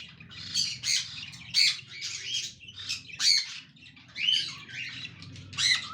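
A cockatiel gives repeated harsh squawks and chirps in irregular bursts, close and fairly loud, with a faint low background rumble between calls.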